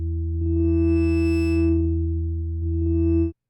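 A sustained synthesized tone from Reaktor runs through a low pass filter in subtractive synthesis, its bright upper harmonics swelling and fading as the cutoff moves, steady and alone, ending abruptly after about three seconds.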